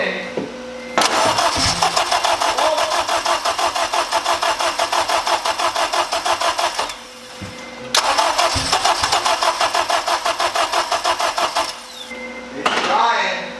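A turbocharged 8th-generation Honda Civic on its first start attempt, the starter cranking in two long, rapid rhythmic bursts that each briefly catch without running, loud and close, separated by a short pause.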